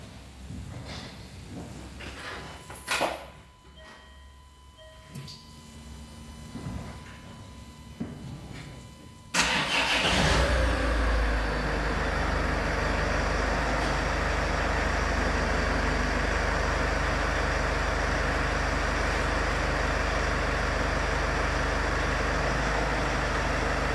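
A car engine cranks and catches with a sharp start, then settles into a steady, loud idle that carries on unbroken, preceded by faint handling noises at a car being wired to a trailer tow hitch.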